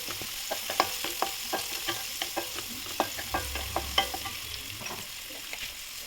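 Curry leaves and coriander fry in a pan for rice upma, with steady crackling sizzle and sharp clinks of a spoon stirring at irregular intervals, close and alone without talk.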